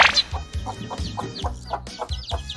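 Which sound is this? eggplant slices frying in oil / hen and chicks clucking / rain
hen and chicks clucking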